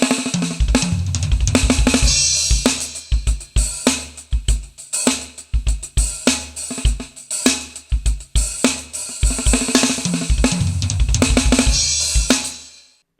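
A drum kit played with inverted paradiddle sticking as an opening chop, leading into busy fills. Rapid, dense snare and tom strokes with cymbals and kick, loud and close, steady for the whole stretch with no speech.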